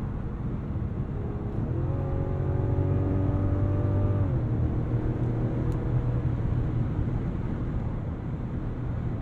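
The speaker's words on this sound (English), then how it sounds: "It's the 369 pound-feet of torque. That really gets the CX-90 up and moving." A Mazda CX-90 Turbo S three-row SUV pulls away under throttle, a moderate engine drone rising in pitch and then stepping down at a gear change, followed by a steady cruising hum with wind rush.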